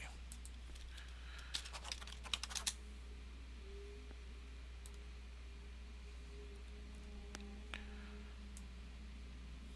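Computer keyboard typing while playing an online game, a short burst of quick clicky keystrokes followed by a few isolated taps, faint and close against a quiet steady hum.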